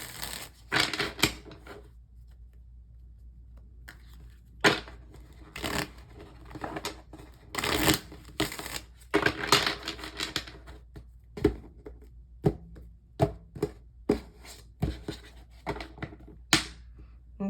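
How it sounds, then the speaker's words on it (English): Crisp riffling and soft slaps of tarot cards being shuffled in bursts, with pauses between, close and fairly quiet. "So let me shuffle it"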